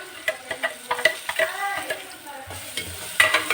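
Garlic-ginger paste and spices fry and sizzle in a pan while being stirred for a potato and pea curry, a steady close crackle with soft scraping strokes and no talk.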